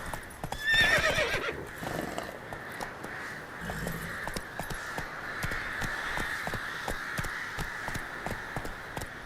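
Horse whinnying and galloping in The Witcher 3: Wild Hunt, a loud neigh near the start followed by a steady run of clip-clop hoofbeats over ambient game noise.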